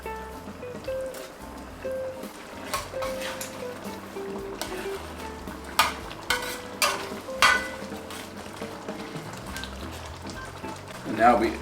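Browned seitan pieces go into a rich vegan Japanese-style curry sauce in a pan, giving a steady low sizzle with scattered stirring knocks and scrapes that grow louder toward the end; no one speaks.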